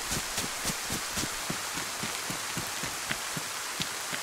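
Steady rain patters down in DayZ, a dense close hiss of drops on surfaces with small irregular splashes, no voices over it.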